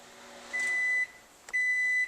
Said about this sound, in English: I'm just going to put this in the microwave for about 30 seconds to let it soften a bit.